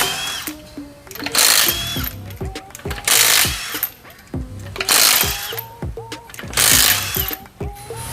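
A Milwaukee cordless impact wrench spins wheel lug nuts off in a star pattern, its rapid hammering bursts alternating with the rising whine of free-spinning spin-down and brief pauses between nuts, loud and close.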